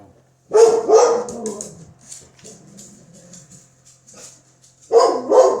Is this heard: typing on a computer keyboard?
no